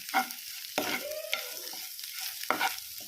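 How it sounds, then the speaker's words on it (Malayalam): Grated coconut roasting in a pan with curry leaves, stirred with a spatula until brown, making several distinct scraping strokes over a faint dry sizzle, close and alone. "തേങ്ങ വന്നിട്ട് നല്ല ബ്രൗൺ കളർ ആവുന്നത് വരെ നമുക്ക് വഴറ്റണം"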